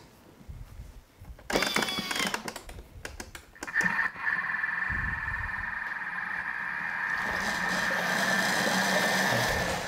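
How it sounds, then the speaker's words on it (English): A Thermomix TM5 purees tomato sauce at speed 8: a few clicks and knocks, then the motor spins up into a loud, steady whirring hum with a high whine that grows slightly stronger over several seconds. "So I'm going to puree this at speed 8 for 1 minute."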